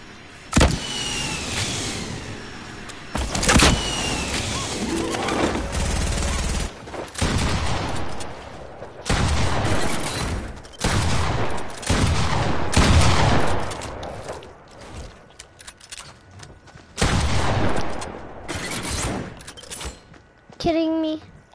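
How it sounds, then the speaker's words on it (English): Rockets fired repeatedly in a video game, arriving as a run of loud, sharp blasts and whooshing bursts spread across the stretch, with a voice speaking at times between them. "I'm shooting rockets everywhere."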